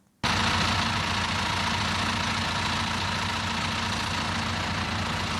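A tractor engine runs steadily at close range in a field during brewing-barley sowing with a seed drill, a continuous low mechanical drone that starts abruptly and holds at an even level throughout.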